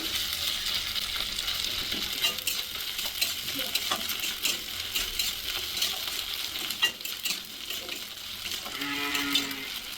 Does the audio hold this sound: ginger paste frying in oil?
yes